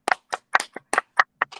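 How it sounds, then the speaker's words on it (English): Small group at a comedy workshop gives a brief round of applause, a few sparse, uneven claps close by, quick and light, trailing off after a second and a half with no talk. "Another round of applause"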